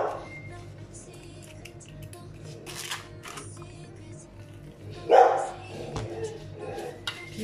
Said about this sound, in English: Please excuse my dog, she's busy barking outside.